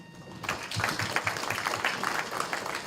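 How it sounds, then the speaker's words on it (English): An audience at a corporate gathering claps for a team, a dense, steady spatter of applause that starts abruptly and continues evenly to the end. "So I think we should clap for the team"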